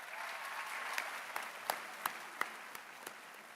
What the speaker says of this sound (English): So I'd like to do a round of applause for your athletic director, Chris Myers.